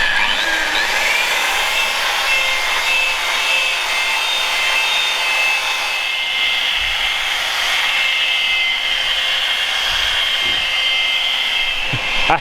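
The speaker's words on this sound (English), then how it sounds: "We're literally just machine polishing the last panel." A machine polisher works over a car panel during a dent repair and respray on an Audi S4, holding a steady, continuous whirring drone at close range with no voices.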